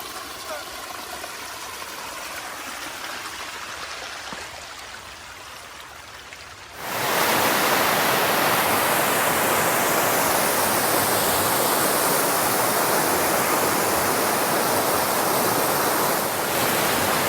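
Rainwater running down a stretch of the Appalachian Trail like a stream. A quieter outdoor stretch gives way to a loud, continuous close rushing that fills the rest of the clip.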